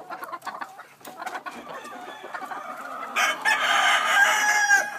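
A black Jap Asil Peru gamefowl rooster clucks in short bursts, then a louder crow rises near the end, close and clear with no talking.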